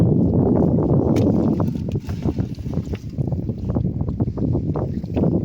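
Gusting wind over the sea buffets the microphone in uneven bursts, with low rumbling roar and occasional thumps, strong and close throughout.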